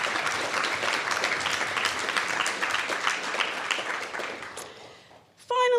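Audience applause for a finalist at a 2019 Three-Minute Thesis competition: a dense, steady round of clapping from a crowd that fills the room, then fades and stops near the end, with a brief sound after it.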